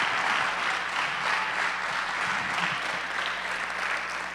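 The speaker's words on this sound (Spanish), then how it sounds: "Un aplauso fuerte al Señor por el pastor Peñalosa." A church congregation gives a loud round of applause for Pastor Peñaloza, with thick, continuous clapping from a large crowd holding steady throughout.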